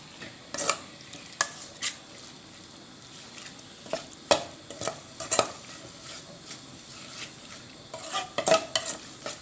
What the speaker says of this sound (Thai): แล้วก็หมูลงไปผัดต่อเลยค่ะทุกคน เราเติมกะทินิดนึงก็ได้ค่ะ เร่งไฟขึ้นมานิดนึง